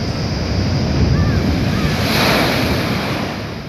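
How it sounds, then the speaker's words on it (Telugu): Rough sea at the Uppada coast during Cyclone Remal, heavy surf crashing and roaring continuously with strong wind noise buffeting the microphone, loud and close. "ఏపీలో ఉప్పాడ దగ్గర సముద్రం అల్లకల్లోలంగా మారింది."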